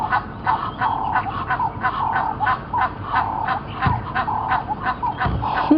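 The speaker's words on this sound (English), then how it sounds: "The Egyptian geese are making a noise." Egyptian geese honk loudly and repeatedly at close range on a sunset safari drive, a rapid rhythmic run of harsh, nasal calls.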